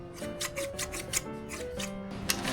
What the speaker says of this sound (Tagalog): Lilihahin ko na lang to.